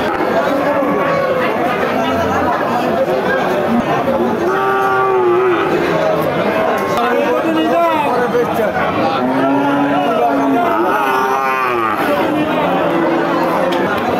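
Bull calves of Sahiwal, Nepali Gir and Sindhi breeds low repeatedly at a busy cattle market, the moos rising over a constant crowd chatter and nearby talking.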